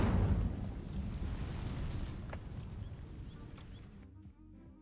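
Incendio fire spell in Hogwarts Legacy igniting vines, a loud burst of roaring, crackling flame that slowly fades over several seconds before cutting off.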